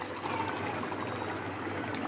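Bean cooking water from black-eyed peas is poured in a steady stream, a continuous close splashing gurgle that holds even throughout.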